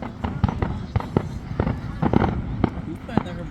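Fourth of July fireworks burst at a public show, a steady series of sharp booms and crackles spaced under a second apart, heard from a crowd with people talking throughout.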